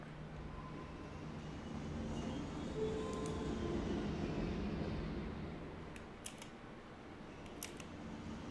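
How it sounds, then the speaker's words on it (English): A train rolls past in the city-building game Cities: Skylines, a steady low rumble that swells and fades over several seconds, with a few sharp clicks near the end. "That was just a train."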